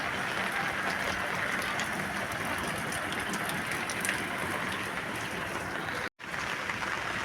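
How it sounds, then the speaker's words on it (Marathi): Heavy monsoon downpour in Kolhapur district drums down steadily as a dense, even hiss of rain hitting surfaces, loud and continuous with a brief dropout near the end. "पाऊस खूप येत आहे"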